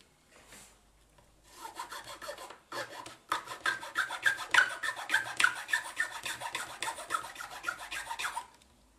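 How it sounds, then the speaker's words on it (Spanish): A hand file rasps against a plastic box while shaping a connector hole, close-up with rhythmic back-and-forth strokes that grow steadier and louder after a short pause. "a posteriori vamos retocando con lima hasta realizar el hueco"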